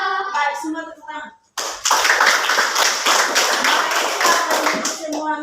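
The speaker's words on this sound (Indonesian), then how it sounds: "Baik, semua tepuk tangan." Schoolchildren in a classroom clap their hands together in a loud, dense burst lasting several seconds, following a teacher's brief spoken cue.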